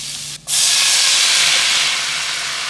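Butter or margarine melting with flour in a pan for a nachos cheese sauce gives a steady, loud, broadband sizzle that starts abruptly and holds without pause.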